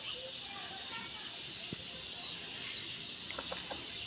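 Small young roosters on a backyard farm, several faint clucks and short calls scattered over steady outdoor ambience with birds chirping in the background.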